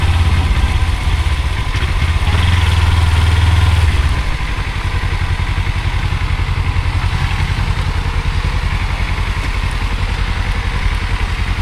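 A motorcycle engine idling close by on arrival at a homestay after a weekend ride from Kolkata, a loud steady throbbing putter that dips slightly after a few seconds and then runs on evenly.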